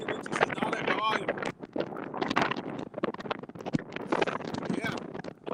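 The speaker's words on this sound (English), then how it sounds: "Yeah, it is windy. Wind's coming right at me." Strong wind buffeting a microphone on the Seven Mile Bridge, gusty low rumbles and flutter heard under a man's close speech throughout.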